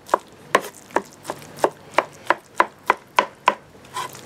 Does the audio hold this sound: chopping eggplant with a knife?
yes